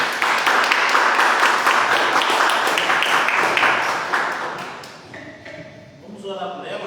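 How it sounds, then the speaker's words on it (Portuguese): A church congregation breaks into sustained, dense applause that fills the room for several seconds and then fades. A voice speaks over the tail end. "aplaude o Senhor, recebendo a obreira Tainá"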